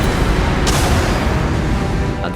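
Explosions tear through the walls inside a ship in Starfield, a dense, loud roaring rumble that holds steady with a sharp burst early on, and no voices are heard.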